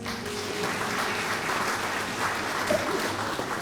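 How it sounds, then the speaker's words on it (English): A banquet audience applauds in a steady, dense patter of many hands clapping at once, sustained evenly throughout at moderate loudness. "Give yourselves a round of applause."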